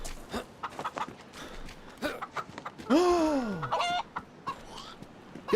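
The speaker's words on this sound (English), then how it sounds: "Oh, there's a chicken." A chicken in DayZ gives a loud, drawn-out squawk in the middle of the clip, with a shorter call after it. Quieter clicks and footsteps come before and after.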